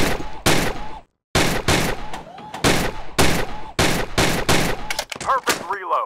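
Rapid volleys of gunfire from the Gun Club VR shooting game, loud, close bursts repeated in quick succession with brief gaps, a short silence early on, and ringing mechanical reload clatter near the end.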